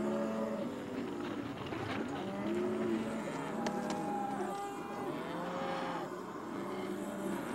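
Cattle on a Hawaiian ranch moo repeatedly, several overlapping drawn-out calls from a herd at moderate distance, with a faint background rumble.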